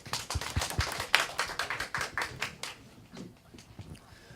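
Audience applause at a blockchain project meetup in Seoul, a few scattered close hand claps, moderately loud at first and then thinning out and fading.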